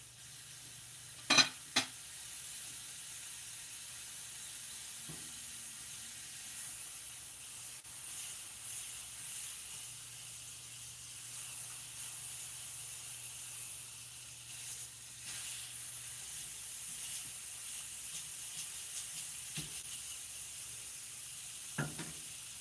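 French toast fries in a hot pan with a soft, steady sizzle and hiss that runs throughout, quiet and close, broken by a few sharp knocks of a utensil against the pan.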